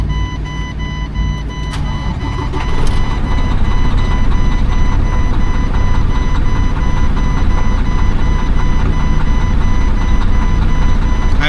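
A broken-down truck's engine cranks and catches, then runs loud and steady with a droning idle and warning beeps over the top.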